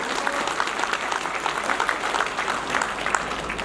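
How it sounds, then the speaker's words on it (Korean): Audience applause in the hall of a workers' welfare centre during a party member meeting, a steady wash of clapping from a seated crowd that holds fairly even for several seconds. "박수 부탁드리겠습니다"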